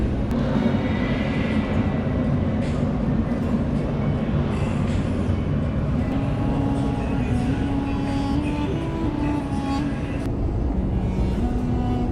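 Continuous loud rumble of a Tashkent metro train in motion in Uzbekistan, with steady low roar, rattling and faint squealing tones throughout.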